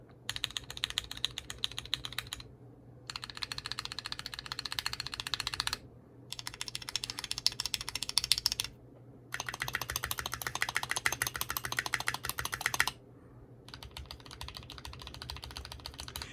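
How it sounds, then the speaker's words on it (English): Fast bursts of keystrokes on a Keychron Q1 V2 mechanical keyboard with linear switches, typed in several rapid runs separated by brief silent pauses, close and crisp. "I guess I'll just hit some keys really quick"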